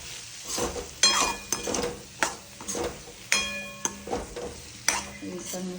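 Spices, turmeric and Kashmiri and hot chilli powder stirred in a pan, a spatula scraping and tapping in a steady rhythm of sharp strokes with faint sizzling between, close and moderately loud.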